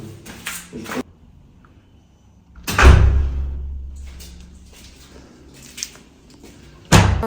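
A newly installed front entrance door is opened and shut, giving a loud heavy thud and rattle near the start of the third second, a lingering low rumble, then another sharp bang near the end, with softer handling clicks early on.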